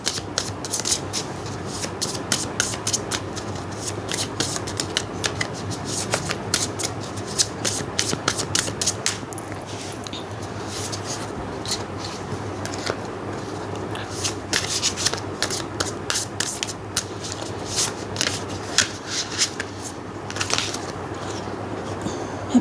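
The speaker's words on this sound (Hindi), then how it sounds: "मैं वापस शफल करूँगी।" Tarot cards are shuffled by hand in a long run of quick riffling flicks and soft rubbing slides, close-up and fairly crisp, with brief pauses between bursts and no speech.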